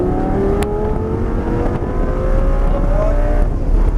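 A Lamborghini engine at full throttle, accelerating hard out of a turn on a track at Grosse Ile Airport. Its loud, close, steady roar climbs in pitch as speed builds, with no talk over it.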